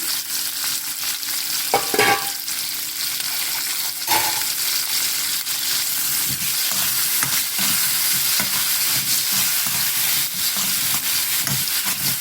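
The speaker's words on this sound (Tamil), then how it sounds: "தக்காளி பழம் கருவேப்பிலை சின்ன வெங்காயம் நல்லா வதங்கிடுச்சு" Small onions, tomatoes and curry leaves sauté in a pan for chicken gravy, sizzling loudly and continuously, with a few spoon scrapes and stirring knocks near the start.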